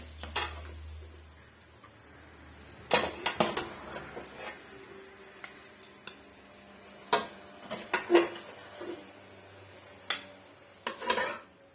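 Potato stir-fry being stirred in a pan with a metal spoon, sharp clinks and scrapes against the pan coming in irregular bursts over a quiet background.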